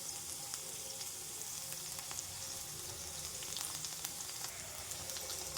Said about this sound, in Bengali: দেখুন বন্ধুরা, ডাঁটাগুলো আরও একটু লাল লাল করে ভাজবো।